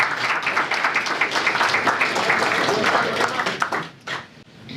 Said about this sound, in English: We get another big round of applause